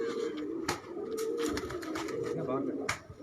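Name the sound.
racing pigeons cooing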